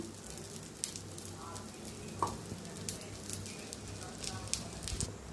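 Dosa frying on an oiled pan, a steady soft sizzle with scattered small pops and crackles continuing throughout at close range.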